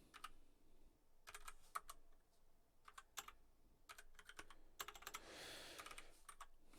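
Rapid typing on a computer keyboard, with irregular bursts of keystrokes close to the mic and a brief flurry of quicker clatter near the end, no voice over it.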